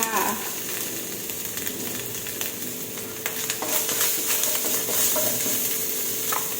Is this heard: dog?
no